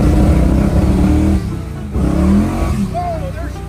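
A big-block V8 engine in a 1955 Chevy with a 4-speed, running badly, roars loudly at wide open throttle, dropping briefly before surging again, with a voice speaking over part of it.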